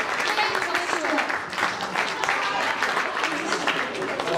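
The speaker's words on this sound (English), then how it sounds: "so can we have a further round of applause as well?" A round of applause rings out at a college sports awards ceremony, steady and dense throughout with voices mixed in the crowd.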